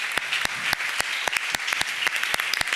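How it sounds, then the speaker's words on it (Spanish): Applause at a physiotherapy evening event in Cantabria, heard as a fairly faint, sparse patter of separate claps from a small audience, with sharp individual hand claps standing out. "creo que se merece un grandísimo aplauso"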